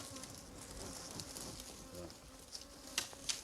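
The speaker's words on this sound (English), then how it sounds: "bees, which were foraging when the hive was removed, are returning" Honeybees returning after their hive was removed buzz close and busy all around, a dense overlapping drone with a few louder passes darting near, and no voices.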